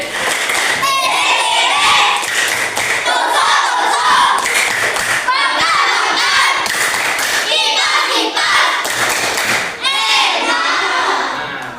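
Schoolchildren in a classroom perform the 'tepuk sate' clapping chant, their rhythmic hand claps mixed with loud, excited chanting voices that fill the room continuously.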